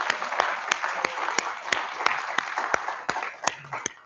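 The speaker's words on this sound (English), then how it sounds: "So let's give June a round of applause" A small audience at a birding presentation gives a brief round of applause, a dense patter of hands punctuated by sharper, evenly spaced claps close by.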